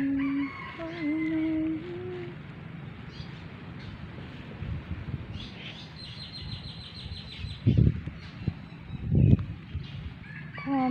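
A rural evening walk carries a rooster's crow, with repeated crowing calls rising above outdoor ambience, other birds and a few louder rustling thumps.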